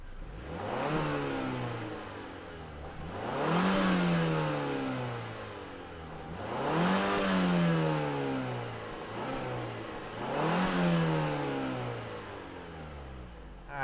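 A 2021 Mazda 3 Turbo engine revs four times at a steady, repeating pace. Each rev rises and falls back to a smooth idle, close and clear with no talking.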